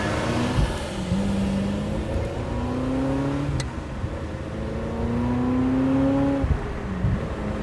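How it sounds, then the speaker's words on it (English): A large diesel truck idles and pulls away alongside a Ferrari F355 Spider, its low engine drone rising and falling in smooth sweeps of acceleration through gear changes, fairly close and steady, with no talking. "we got a big diesel truck next to us, which is what you're hearing"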